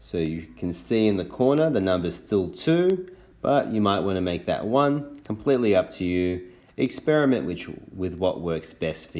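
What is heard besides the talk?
No everyday noises stand out.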